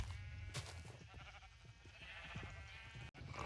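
Minecraft sheep bleat inside a farm breeding pen in a survival game, a few short bleats repeating over a steady game background with no talking.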